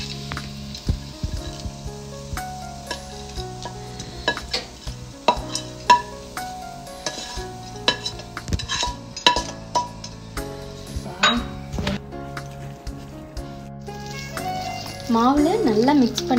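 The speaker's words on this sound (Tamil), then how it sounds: "மாவில் நல்லா மிக்ஸ் பண்ணிக்கோங்க" Fried onion masala mixed into paniyaram batter, with repeated wet stirring knocks and clinks of a spoon against a bowl in an uneven rhythm, close by, and a steadier sizzle-like hiss near the end.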